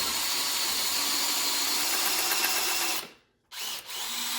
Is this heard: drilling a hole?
yes